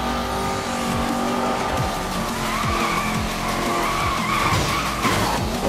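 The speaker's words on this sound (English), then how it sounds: "Beautiful drift on that last turn there" Tires on a Ford GT squeal loudly and steadily as the car drifts through a turn in Need for Speed: Most Wanted (2012), with the engine roaring and shifting pitch beneath the long skid.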